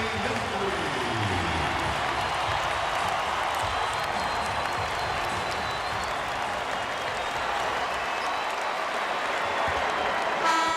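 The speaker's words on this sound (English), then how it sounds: "And listen to this crowd for number 8, Kobe Bryant." A large basketball crowd cheers and applauds loudly and continuously for Kobe Bryant during his 81-point game against the Toronto Raptors, a dense sustained roar of clapping and voices that fills the whole stretch.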